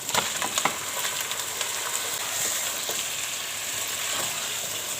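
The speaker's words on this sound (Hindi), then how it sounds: "चिकन को अच्छे से भूनना है।" About a kilo of chicken frying in a pot with garlic and ginger, a steady loud sizzle with occasional crackles and pops from stirring, continuous throughout with no talking.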